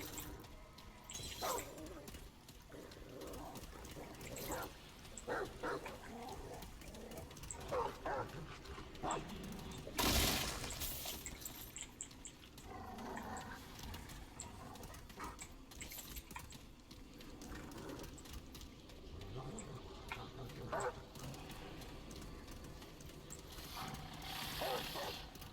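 Dog barking and yipping inside the video game Remnant: From the Ashes, a fairly quiet stretch of intermittent barks and whimpers over a busy game soundscape, with one louder burst partway through.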